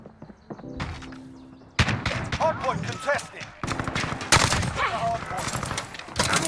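AS VAL rifle gunfire in Modern Warfare rattles in rapid close bursts, with loud automatic volleys breaking out repeatedly while a player talks between them.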